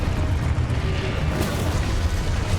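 The Confringo fire-blast spell in Hogwarts Legacy bursts with a loud, deep boom and a crackling rush that fills the moment, followed by a rumbling tail.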